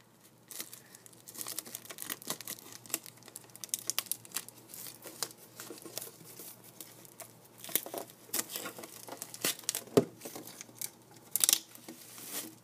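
Crinkling, tapping and scratching of a Pokemon Keldeo tin and its plastic packaging being opened, in irregular close-up bursts with brief quiet gaps.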